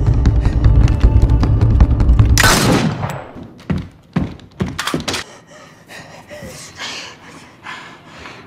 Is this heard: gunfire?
yes